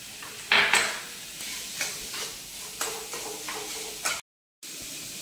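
Boiled potatoes and chhana being stir-fried in a pan: repeated scraping strokes of a spatula over a faint sizzle, close and moderately loud, with a brief dropout near the end.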